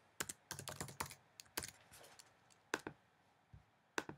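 Someone types a password on a computer keyboard: quiet, irregular clusters of light key clicks with short pauses between them, close and alone.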